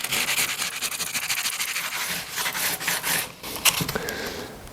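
Continuous rough rasping of sanding by hand, back-and-forth strokes in an uneven rhythm, close and fairly loud, no voices.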